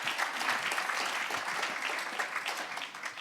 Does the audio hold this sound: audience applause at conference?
yes